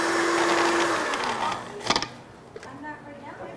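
Blender whirring through hummus ingredients, loud at first then winding down, followed by a few clunks and a voice speaking.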